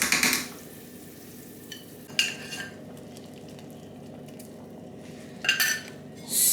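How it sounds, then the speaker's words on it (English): Egusi goes into a pot of soup in a home kitchen, with a few short clinks and scrapes of utensil on cookware in separate bursts over a quiet background and no talking. "Now I'm going to drop in the egusi this way."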